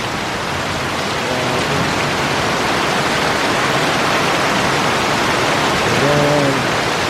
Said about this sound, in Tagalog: Ang ulan, may bagyo yata eh.